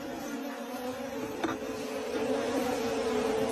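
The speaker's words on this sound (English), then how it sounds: "that bee is like big as his hand" A large bee buzzing near a massive tree, a steady droning hum with a faint click partway through, continuous and moderately quiet with no talking.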